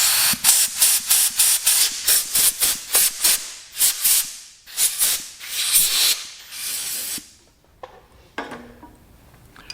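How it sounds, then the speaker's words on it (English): Brake cleaner sprayed in repeated bursts to blow dust out of a Massey Ferguson 135 tractor's fuel tank, a string of loud close hissing blasts with short gaps, then quieter scrapes and handling after the spraying stops. "we'll give that a bit of a blow out with our brake clean"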